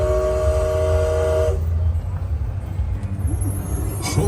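A Christmas steam train departs on a holiday ride: a steady whistle tone sounds for about a second and a half over the low, continuous rumble of the moving train, which carries on loudly afterward.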